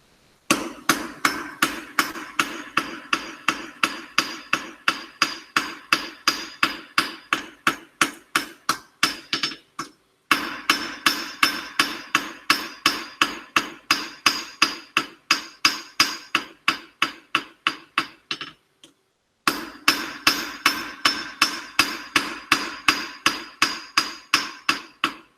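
Steady, rhythmic hammer blows ring out on metal while a diamond point is forged, each strike sharp and close. The blows come in long even runs separated by brief pauses.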